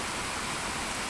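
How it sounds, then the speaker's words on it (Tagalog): Heavy rain pours steadily onto a ground-floor surface, a dense continuous hiss that stays loud and even throughout the short stretch, with no voices over it. "malakas, lumalakas ang ulan"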